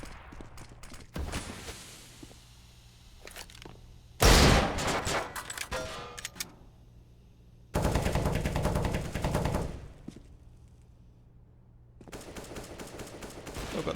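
Pistol gunfire during a CS:GO match on the Mirage map comes in several loud bursts of rapid shots, separated by quieter stretches of game ambience.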